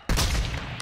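Heavy gunfire erupts abruptly in a video game, a loud, dense burst of rapid shots that continues without a break for under a second.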